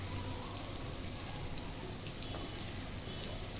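Jackfruit seeds tipped into a frying pan of hot onions bring a steady, loud sizzle and crackle of frying that holds evenly throughout with no pauses.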